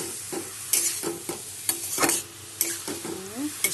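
Cabbage sabji with spices is stirred and fried in a pan, with a steady sizzle broken by repeated scraping strokes of the spoon, close and clear.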